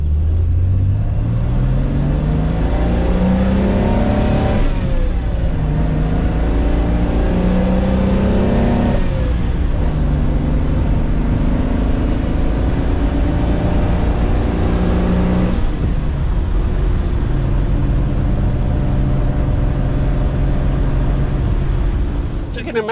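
A 1960s Lancia Flaminia GTL pulls away in first gear with a loud, close engine rising in pitch through several revving surges and slick gear changes, under someone talking.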